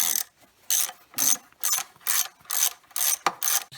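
A ratchet unbolts a part on a car engine with a vacuum leak, about nine rapid clicking bursts in a steady back-and-forth rhythm, close and clear with no talking.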